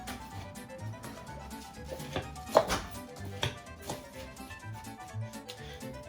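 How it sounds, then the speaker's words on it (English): Ingredients for a no-bake rice crispy dessert, including grain chocolate, are stirred in a bowl with a spoon, giving a series of irregular scraping and clinking strokes at moderate volume. "Actually, it's easier for me to mix with the spoon."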